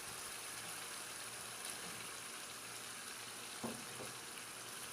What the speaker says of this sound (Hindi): और आलू को भी हम चिकन के साथ तकरीबन 3 से 4 मिनट तक फ्राई कर लेंगे